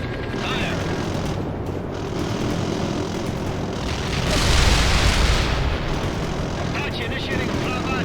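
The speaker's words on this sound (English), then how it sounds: "Affirmative. Launching Hellfire." Hellfire missile strike in the World in Conflict video game, with an Apache helicopter overhead: a steady engine and rotor drone that swells into a broad, roaring blast near the middle, continuous battle noise throughout.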